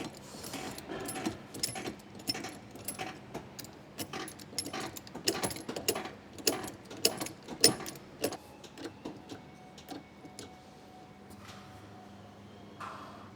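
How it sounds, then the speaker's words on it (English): A jack fitted with a 150mm extension raises a caravan at its jacking point for a tyre change, giving close, irregular metallic clicks and clanks that cluster in the middle and thin out toward the end. "we've just jacked it up using the 150mm extension provided"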